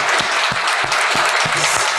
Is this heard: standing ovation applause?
yes